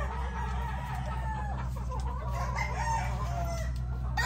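A 5K Sweater gamefowl broodcock rooster crowing loudly and close, one drawn-out crow over a steady low hum, with faint clucking from other fowl nearby.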